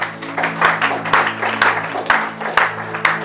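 A church congregation applauding together in roughly even, rhythmic bursts of clapping about twice per second, close and lively, with a sustained tonal drone underneath and no clear talking.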